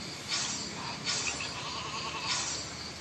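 Sheep bleating outdoors, three separate bleats spaced about a second apart, moderately distant over a constant background hiss.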